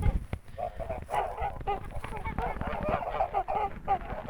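Mammoth and Kholmogory geese honking and cackling close by in short irregular bursts, with faint speech mixed in.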